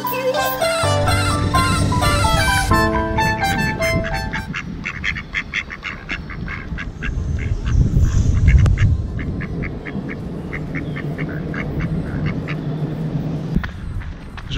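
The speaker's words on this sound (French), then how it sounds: "j'adore les canards" Ducks quack near a woodland trail at Bures-sur-Yvette, a long run of loud, close nasal calls in quick repeated bursts, following a brief stretch of music at the start.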